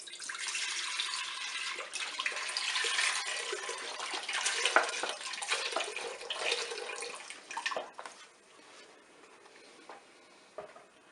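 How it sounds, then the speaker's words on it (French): Milk is poured into the bowl of a Cookeo multicooker set to manual browning mode, a steady liquid splashing and trickling for about eight seconds before it thins out and quietens. "On verse tout simplement le lait dans la cuve."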